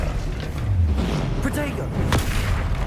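Confringo explosion spells in Hogwarts Legacy, heard as a couple of quick bursts and whooshes amid game effects while a player shouts spell names over the action.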